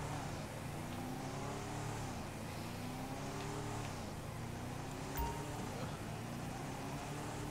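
A car engine in GTA 5 revs repeatedly while stuck in reverse, its pitch rising and falling in steady waves over a constant engine drone, fairly faint and continuous.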